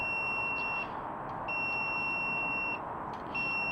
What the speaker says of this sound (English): I'm using my voltage detector. I'll test all the wires, and this is your hot wire right here.